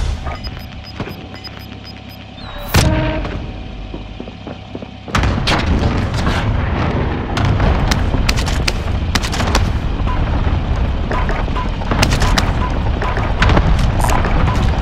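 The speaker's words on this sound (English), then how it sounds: "Receiving hostile fire." Hostile gunfire and explosions in the Warzone video game: a sharp blast near three seconds, then dense, continuous loud gunfire bursts and booms through the rest, with no talking.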